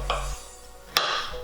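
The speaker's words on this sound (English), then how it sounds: "you can simply slice it with the skin still on" A knife slices through a mango cheek with the skin still on, giving a soft scrape followed by one sharp click against the board, close and quiet over a low background hum.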